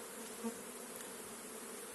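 Continuous soft buzzing of honeybees at a hive, a steady droning hum with no voices, fairly quiet and close.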